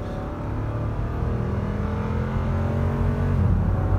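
A Lexus GX SUV accelerates at full throttle, its engine drone climbing steadily in pitch and loudness, heard from inside the cabin with no talking.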